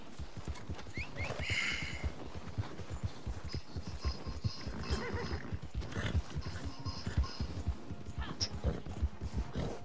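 Horse hooves gallop in Red Dead Redemption 2 Online, a steady rapid clip-clop running throughout at close range, with occasional whinnies and a few brief voices mixed in.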